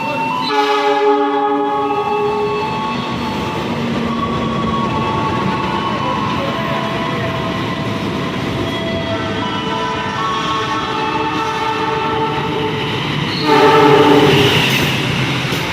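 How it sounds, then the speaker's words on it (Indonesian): An Indonesian Bangunkarta passenger train rolls along steadily with a loud rumble and clattering wheels, tonal squeals drifting over it, and a louder burst near the end. "kereta api Bangunkarta diberangkatkan kembali dari stasiun Kutoarjo"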